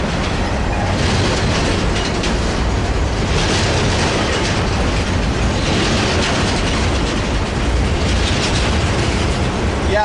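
Freight train passing, a port stacker running as a Z train, a loud, continuous rumble and roar of rolling railcars with steady clattering close by throughout.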